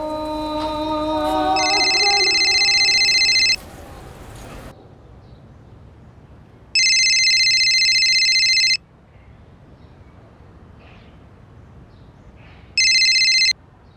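A telephone rings in three loud bursts of electronic trilling separated by quiet gaps, with music fading out at the start.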